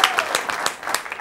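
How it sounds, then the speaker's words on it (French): A live audience at a stage show gives brief applause, a short, uneven spatter of claps heard close. "Applaudissez avant que je vous la donne"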